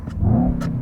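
A car engine briefly revs up and settles, a short low growl heard up close with a couple of faint clicks.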